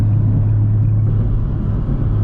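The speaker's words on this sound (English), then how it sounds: "it's definitely a louder exhaust system" Low, steady exhaust drone of a supercharged Nissan 370Z with a Greddy GT exhaust, heard from inside the cabin as a constant deep rumble while cruising.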